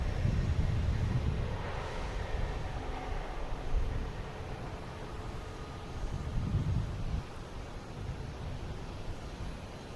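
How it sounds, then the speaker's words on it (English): A Scandinavian airliner takes off from a runway at Boston Logan, a distant, steady broadband roar that swells and fades slightly over several seconds. "Scandinavia's taking off at runway 9."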